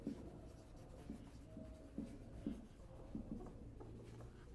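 A pencil scratches on paper while a geometry construction for a perpendicular bisector of a line segment is drawn. The strokes are soft and intermittent with short gaps between them, heard close up in a quiet room.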